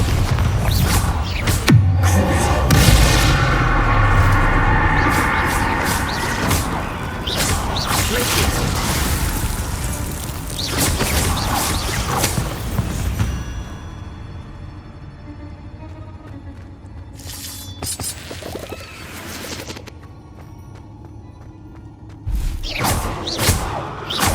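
Repeated Bombarda and Confringo spell blasts from Hogwarts Legacy: a dense run of loud booming impacts and crashes with whooshes, thinning out midway and returning as sharp bursts near the end.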